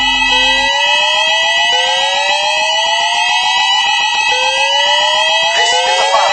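A mall fire alarm blares loudly and continuously, layered electronic tones with rising sweeps repeating every couple of seconds.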